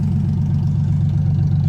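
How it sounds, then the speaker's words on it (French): A car engine, just started and warming up, idles with a loud, steady low rumble and a fine rhythmic throb, close by and unbroken, without any talking. "je viens de partir le char."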